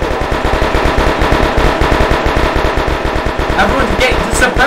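Sustained automatic gunfire suppressing a position in the ROBLOX military simulation game Novyrus MilSim, rapid loud bursts of shots firing steadily back to back throughout, with a faint voice underneath.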